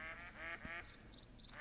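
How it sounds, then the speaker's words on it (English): Ducks in theHunter: Call of the Wild give a quick run of nasal quacks, close and fairly quiet, with a few higher chirps between them over soft outdoor ambience. "I got ducks right there as well."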